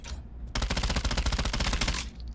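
A suppressed SMG in the Pavlov VR video game fires one sustained automatic burst of about twenty rapid, evenly spaced muffled shots lasting around a second and a half, close and loud.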